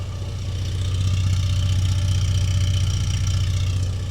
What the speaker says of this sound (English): It sounds to be idling very smoothly and evenly on all 4 cylinders.